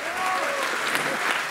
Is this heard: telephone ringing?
no